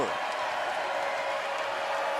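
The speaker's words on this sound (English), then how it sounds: "Even the crew getting an applause right here" Volleyball arena crowd applauding at a women's college match, Texas against Iowa State: a steady, dense wash of clapping and cheering that holds at even loudness throughout, with no clear speech standing out.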